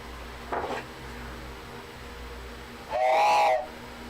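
A single short blast from a small train whistle with a clear, breathy tone, loud and close, after a brief faint noise and quiet room background.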